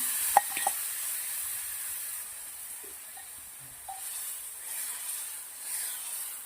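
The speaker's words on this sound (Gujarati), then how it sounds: "મસાલા મસ્ત મિક્સ કરી લેશું આપણે" Spices and whisked yogurt stirred into a sizzling pan, a soft steady hiss with a couple of early utensil clinks, faint and close, no talking.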